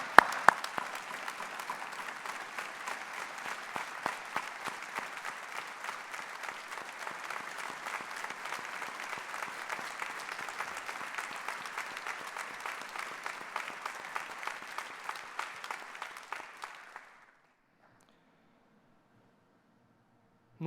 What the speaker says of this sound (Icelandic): ég vil biðja ykkur að klappa Jóhannesi Nordal lofa.